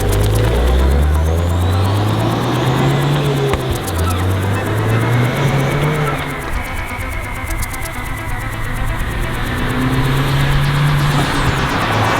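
A modified 335 bhp Ford Fiesta ST engine drones steadily as it drives along the road, revving up and shifting through gears, loud and close, with continuous road noise underneath.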